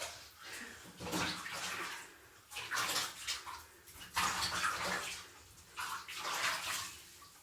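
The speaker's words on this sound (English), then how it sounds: "fill the bathtub up just enough to cover her feet" Water runs into a bathtub in loud, rushing surges that rise and fall, splashing as it fills just deep enough to cover a dog's feet.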